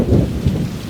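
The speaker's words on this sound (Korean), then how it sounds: "천둥도 계속 쳐요." Thunder rumbles over heavy rain pouring onto an inflatable air tent by a valley stream at a campsite at 3 a.m., deep rolling booms swelling twice within a second, close and loud, above the steady rush of rain.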